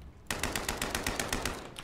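Rapid burst of assault rifle gunfire in a video game, about a dozen evenly spaced shots fired in quick succession, fairly faint, with no talk over it.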